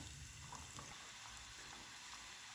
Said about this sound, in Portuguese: eu venho fritando os peixes, tá? Vou colocar aqui aos poucos. Vou colocar primeiro um filezinho.